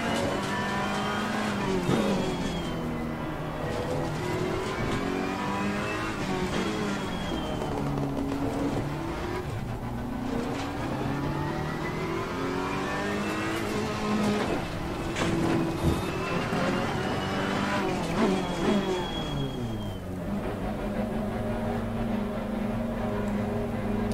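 A car drifts in a racing video game at Barcelona, engine revving up and down with repeated tire squeals and skids, while people talk over it.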